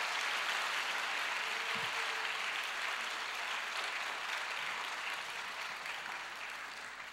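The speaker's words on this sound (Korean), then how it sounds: "뜨거운 박수로 환영하겠습니다." Church congregation at an evening Sunday service applauding to welcome a guest elder to the pulpit, a soft, even wash of many hands clapping at a distance, gradually fading toward the end.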